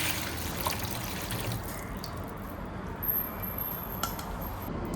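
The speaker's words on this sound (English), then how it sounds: "I'll fill this little tub with some pretty chilled" Cold water pours from a tap into a small tub, a continuous splashing trickle with faint glassy clinks near the end.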